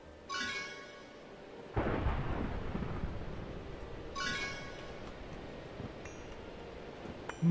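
Thunderstorm in Minecraft GT New Horizons: loud thunderclaps crack and rumble, with a sharp crash near two seconds and a rolling roar that lingers over steady rain-like background noise.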